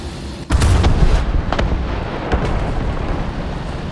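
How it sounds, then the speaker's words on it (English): A Panther tank cannon fires at a Vickers tank in the video game War Thunder, one loud, close blast with a heavy low boom that rolls on into a long rumbling tail. "So Panther shot that Vickers"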